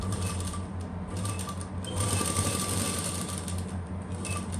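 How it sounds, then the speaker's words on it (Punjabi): A sewing machine stitches lace onto a garment neckline, its motor running in a steady, close whir with a constant mechanical hum throughout and no voices. "ਇਹਦੇ ਉੱਪਰ ਆਪਾਂ ਥੋੜੀ ਜਿਹੀ ਸਲਾਈ ਲਾ ਦਾਂਗੇ"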